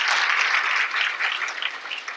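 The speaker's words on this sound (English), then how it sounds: "Please join me in giving them a round of applause for making everything wonderful." A crowd at a school district event breaks into warm, steady applause that holds loud and full before easing off slightly toward the end.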